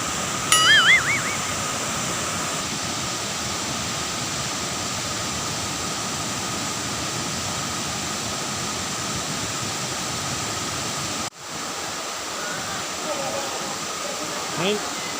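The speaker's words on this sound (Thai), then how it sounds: "ให้ดูน้ำตกพลิ้วนะครับมุมที่สวยที่สุด" Water at Phlio Waterfall in a Thai national park in Chanthaburi rushes in a steady, dense roar throughout, with a brief pause near the end and light voices barely rising above it.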